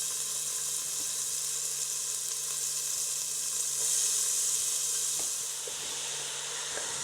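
Onion and pepper mixture frying in about a teaspoon of coconut oil for a homemade peanut chicken curry, giving a steady close sizzle and hiss that swells slightly midway, with no talking.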